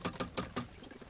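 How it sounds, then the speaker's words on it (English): Pigeons nearby giving a short run of soft, rapid cooing pulses, about five bursts in quick succession, faint and with no talk over them. "Most of these birds look like they can fly halfway around the block."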